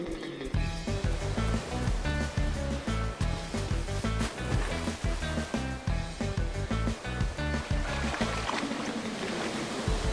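Ocean waves while surfing in Hawaii in a cartoon, a loud, continuous wash of surf and splashing water with rhythmic churning, heard alone without speech.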